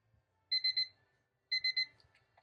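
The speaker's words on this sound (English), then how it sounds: "You also have the option to make the alarm audible or just visible." Rainbow-themed visual timer with a soft silicone exterior sounding its audible alarm: two bursts of three quick high electronic beeps, a second apart, clear and alone in a quiet room.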